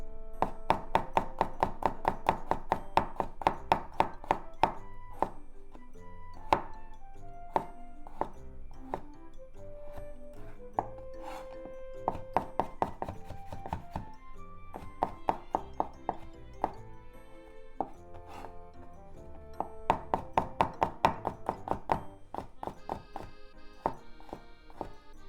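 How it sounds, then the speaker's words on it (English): A knife slices frozen peeled garlic cloves into thin slices on a cutting board, giving a long run of quick, steady crisp taps and chops, fairly close and clear with no talking. "Garlic into thin slices."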